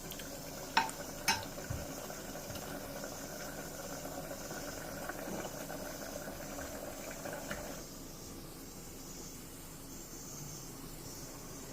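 Pot of moong dal with leafy greens simmering on the stove, a steady soft bubbling hiss throughout with a couple of brief clinks near the start, quieter after the lid-like change late on; no speech.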